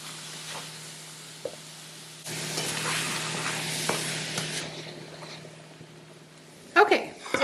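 Mushrooms and sweet potato sizzle as they brown in a frying pan, a steady close hiss that swells partway through, with a few stirring knocks and a person speaking near the end.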